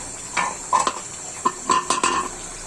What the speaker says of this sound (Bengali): তুলে নিচ্ছি আমি ঢাকনাটা